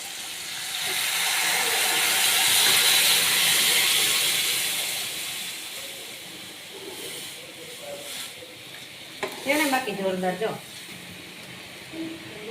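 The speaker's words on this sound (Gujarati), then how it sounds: "હવે આપણે નાખી દઈએ આપણી બાફેલી હળદની દાળ" Boiled urad dal tipped into tomatoes cooking with salt and turmeric in a pan gives a loud, broad sizzling hiss that swells for several seconds and then fades, followed by a voice talking.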